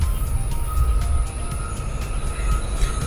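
An RER commuter train rumbles along steadily at close range, with a deep rolling roar, rhythmic wheel clacks and a high tonal whine held throughout.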